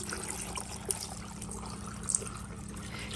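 Water trickles and pours steadily into a jug, a soft continuous flow with a couple of brief clinks along the way, 1.5 liters added for panela lemonade.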